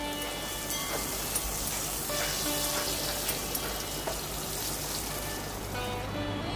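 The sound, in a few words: potatoes and pointed gourd frying in oil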